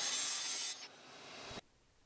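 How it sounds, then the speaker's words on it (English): Track saw cutting angled tapered bevels into wood for a mid-century modern coffee table, a bright steady rasping hiss that drops in strength partway and then cuts off abruptly, close and alone. "The track saw really is the best tool to do this."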